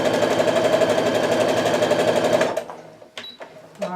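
Sewing machine stitching a seam on a kaleidoscope quilt block, running at a fast, steady rhythm for about two and a half seconds, then stopping and giving way to light fabric handling and small clicks.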